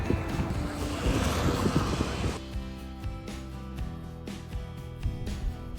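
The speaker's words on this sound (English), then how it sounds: "It's not raining yet, so we're hopeful, but it's really windy." Strong coastal wind in Bermuda roars across the microphone, a dense gusty rush for the first couple of seconds that then settles into steady blustery noise.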